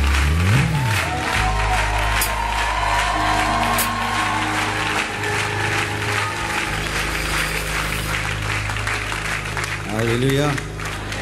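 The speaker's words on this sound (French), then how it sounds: "Aidez-moi à acclamer le Seigneur pour le pasteur Marcelo, ici, présent." A church congregation claps steadily to acclaim Pastor Marcelo, a dense, loud wash of applause running the whole stretch over sustained low tones, with brief rising vocal sweeps near the start and end.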